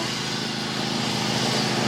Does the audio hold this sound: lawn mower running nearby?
yes